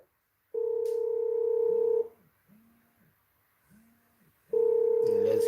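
Telephone tones sound as a radio caller connects: a loud steady tone of about one and a half seconds, then two softer pulsing ring tones, then the loud tone returns.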